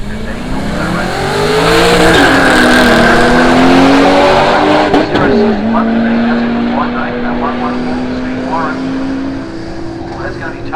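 Drag race cars roar in a heads-up race on the Hyper Street strip at Willowbank, engines rising in pitch as they launch and pull hard, loud and close, with a commentator talking over them.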